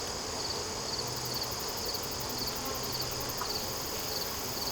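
Honeybees buzz in a dense, steady swarm drone close to the microphone while a new hive is inspected, the colony growing agitated as a heavy frame is lifted. The buzzing hums continuously throughout with no pauses.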